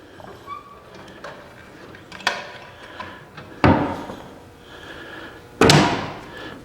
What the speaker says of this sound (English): Show me how you close those doors up.